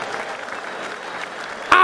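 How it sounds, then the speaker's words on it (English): Crowd applause at a live boxing fight night in Hull for both fighters after the bout, a steady wash of clapping from the audience, with a brief sharper burst near the end. "could we please have a big round of applause for both of our"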